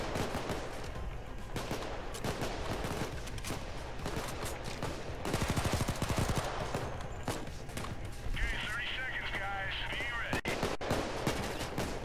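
Rapid automatic gunfire from the video game Payday 2, dense bursts of sharp cracks that run almost continuously, with game sounds and chatter mixed underneath.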